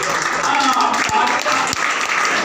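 A crowd at a political rally applauds steadily, the clapping loud and continuous while a speaker's voice carries over it.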